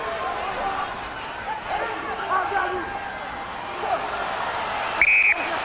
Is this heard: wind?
no